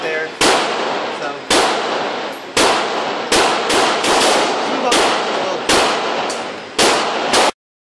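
Gunshots from an IMI Tavor TAR-21 rifle, a compact bullpup, fired outdoors at a range: about ten loud, sharp single cracks at irregular intervals, each followed by a short decaying echo.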